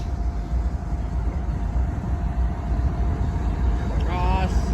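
A CSX ES44 locomotive rumbles past on Canadian Pacific track beside an Amtrak line, a steady low roar near the listener, and a brief rising whine or horn-like tone shows up near the end.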